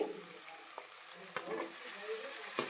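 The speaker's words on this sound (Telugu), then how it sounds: "టమాటాలు అయితే వేసేస్తున్నానండి" Tomatoes fry in a pan for egg biryani with a soft, steady sizzle, broken now and then by quiet clicks of stirring. The sound is faint and close.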